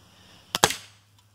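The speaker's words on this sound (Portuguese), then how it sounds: "E agora com o gamo letal, vou dar um disparo ali, ali em cima." A Gamo Big Cat IGT air rifle fires a single shot aimed at a brick: a sharp double crack, spring-and-gas release then report, close and loud against a quiet background.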